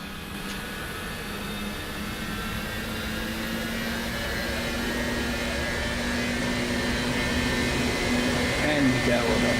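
Aircraft jet engines power up for takeoff in a flight simulator game, a steady broadband roar with a droning tonal hum that holds loud and continuous throughout, gradually swelling slightly.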